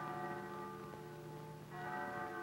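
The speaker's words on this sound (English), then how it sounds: "church chimes blend with the college bells" Church chimes and college bells ring together in a faint, sustained blend of overlapping tones with a soft new strike near the end, heard from a distance.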